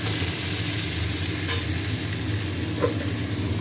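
Onion frying in a pan, a steady loud sizzle with occasional stirring scrapes, close up and without voices.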